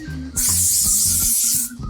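Hairspray hisses onto a 1960s vintage half-up hairstyle in one long, close, steady burst lasting over a second, with faint rustling before and after.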